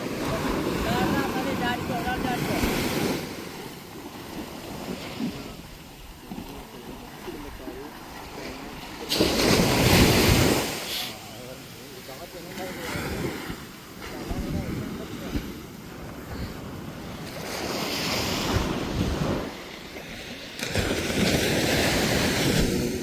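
Sea waves roll and break along a fishing shore where rowed boats are hauled in, the surge swelling loudly in repeated bursts around ten and twenty seconds amid gusty wind rumble, with voices talking now and then.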